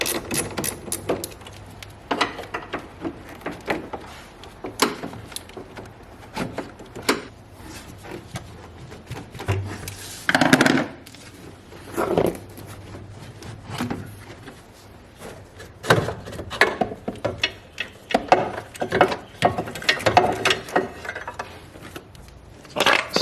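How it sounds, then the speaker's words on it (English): Metallic clicks, taps and rattles of tools come from loosening and removing the negative battery terminal under a car hood, irregular and close, with scattered bursts and handling noise and no talking. "I'm gonna disconnect the negative terminal on the battery"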